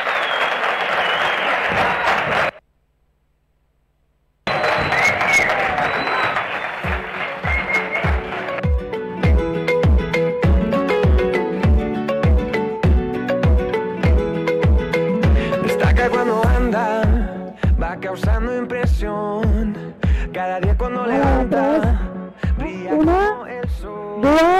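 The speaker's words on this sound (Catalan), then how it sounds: "Vinga, un aplaudiment per ells." Audience applause for performers after a school production of A Midsummer Night's Dream, loud clapping before a brief gap, then rhythmic beats with music-like tones that carry on steadily to the end.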